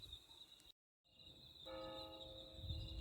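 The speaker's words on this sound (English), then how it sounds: "And now we're having the chimes." A sustained church bell tone in Portugal hums steadily, briefly cut off by a gap, then layered chimes swell in with rich harmonic overtones at a moderate distance.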